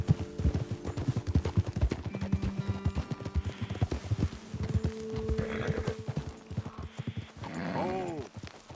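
Horse hooves clip-clop in a quick, steady rhythm close by in the video game Red Dead Redemption 2, slowing near the end as a horse whinnies and snorts.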